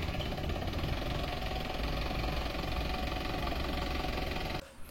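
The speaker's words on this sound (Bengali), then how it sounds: "পিকআপটি ফ্রেশ একটি আউটলুকে রয়েছে এবং ইঞ্জিনের সাউন্ডটি শুনুন।" A Mahindra Bolero pickup engine idles steadily with a close, even mechanical chatter and low hum, continuous and alone until it cuts off just before the end.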